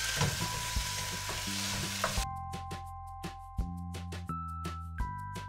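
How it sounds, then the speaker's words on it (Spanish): Chopped tomato and serrano chili fry in a pan with a dense sizzle for about two seconds, then spoon strokes tap and scrape at a steady pace over sustained background tones. "Ahora le agregamos el jitomate y vamos a mezclarlo muy bien."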